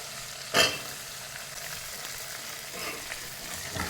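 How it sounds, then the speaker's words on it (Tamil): Shallots sautéing in a pan: a continuous close sizzle with a sharp clack of a utensil near the start and soft stirring scrapes later, and no talking. "சின்ன வெங்காயத்தை கொஞ்சம் வதக்கிக்கலாம்"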